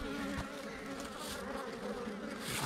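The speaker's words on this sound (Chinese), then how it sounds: "哎呀，大家看我的钛合金神眼，没错啊，就在这个位置，这里有一窝蜂。" Wild bees buzz steadily and close at a hive on a hillside, a dense continuous drone with no speech.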